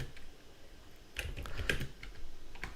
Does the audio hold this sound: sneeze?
no